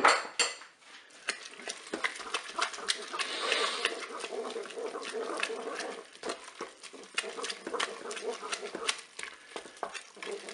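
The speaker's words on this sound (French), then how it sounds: "mon jus de citron, ma crème fraîche, je vais mélanger" Spaghetti being stirred with lemon juice and crème fraîche in a pot, giving irregular clinks and scrapes of a utensil against metal over a faint moist background, close and fairly quiet; no voices.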